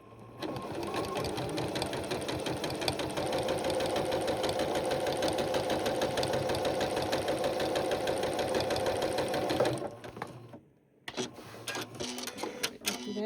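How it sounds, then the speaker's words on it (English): A sewing machine stitching a quilt block seam for a sampler quilt, running in a steady rapid mechanical chatter for about ten seconds, then stopping with a brief clunk and some handling noise. "we're going to sew the same thing, but we're going to sew on the opposite side"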